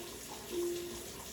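Water runs from a tap into a pot of cooking oxtails, a brief soft pour rising briefly over a quiet kitchen background, no speech.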